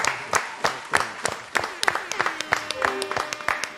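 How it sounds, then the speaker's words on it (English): A small audience gives the Bishop a round of applause: sparse, uneven handclaps that come in loose bursts, fairly close, with voices talking over them. "Give Bishop a round of applause"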